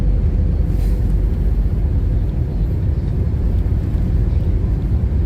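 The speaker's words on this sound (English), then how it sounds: "we made it on the plane" Steady low droning rumble inside an airliner cabin, continuous and loud with no breaks or voices.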